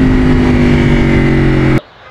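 A steady low engine hum from an Aprilia RSV4 RF motorcycle idles at low revs, close and loud, then cuts off abruptly near the end.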